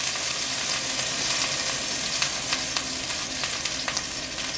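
Garlic, onion and scallions frying in a hot pan, a steady loud hiss with occasional crackles and spatula scrapes, close and without talk.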